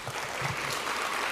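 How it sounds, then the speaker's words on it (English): An audience at an EmpowHER women's empowerment event applauds steadily, a dense even wash of clapping with no voices over it. "Let's give Jessie a big round of applause"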